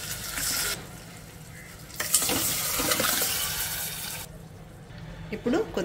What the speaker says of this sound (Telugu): ఇప్పుడు కొద్దిగా నీళ్ళు వేసుకుందాము.